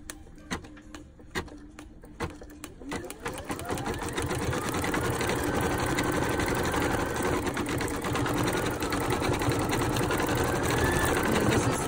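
A Brother Innovis 2800d embroidery machine stitches a llama design through fabric sandwiched with wash-away stabilizer, starting with a few separate clacks before settling into a steady, loud, rapid mechanical stitching hum close by.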